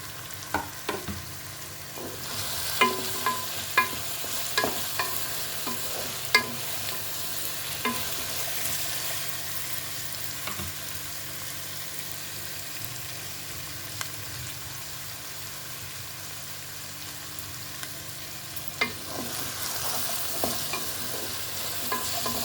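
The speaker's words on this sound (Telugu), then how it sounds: "అల్లం వెల్లుల్లిపాయ పేస్ట్ వేగిపోయిందండి" Ginger-garlic paste with mint and coriander leaves frying in a pan for vegetable biryani, a steady low sizzle broken by repeated scraping stirs and spoon clinks, close and moderately loud with no talking.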